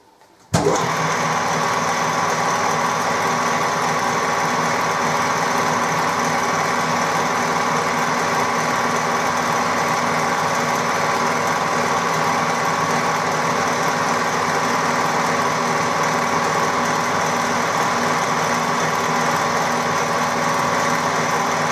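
A metal lathe machines a replacement part, its motor starting abruptly and then running as a loud, continuous, steady whine with a constant mechanical drone.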